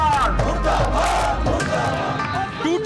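A large crowd of teachers chants loudly in unison at a street protest in Delhi, raised voices overlapping in a continuous, rousing roar.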